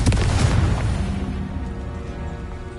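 Fiery Confringo spell explosion from the video game Hogwarts Legacy: a loud booming blast at the start that rolls off into a long, fading rumble and crackle.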